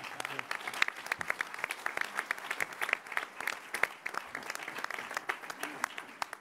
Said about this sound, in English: A big round of applause for Bob Duffy.